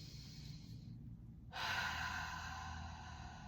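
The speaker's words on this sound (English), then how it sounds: "take a deep breath in" A person in a yoga class takes a deep breath, heard as a soft, close inhale followed after a brief pause by a longer, louder airy exhale.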